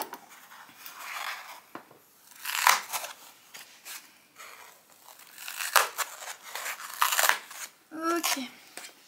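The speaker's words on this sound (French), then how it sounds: "J'aime pas avec cette éponge, il faut absolument que je la coupe." Scissors snip through a kitchen sponge in a series of crisp, uneven cuts with rustling and crinkling between them, recorded close up in a home.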